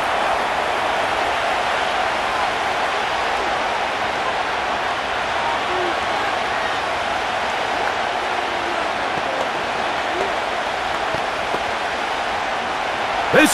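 A stadium crowd roars during an NFL game between the Baltimore Ravens and Houston Texans in Madden NFL 25, a steady, dense wall of cheering noise that holds at an even level throughout.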